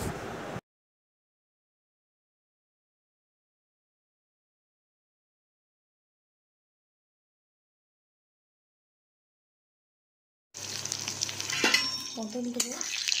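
Pointed gourd (potol) frying in a pan, a brief sizzle at the start, then a long silence, then a renewed crackling fry with faint stirring scrapes near the end.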